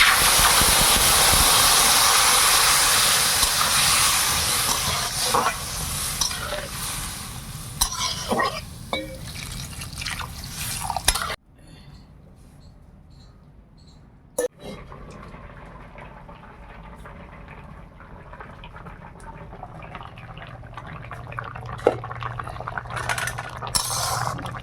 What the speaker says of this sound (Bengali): এবার জল দিচ্ছি।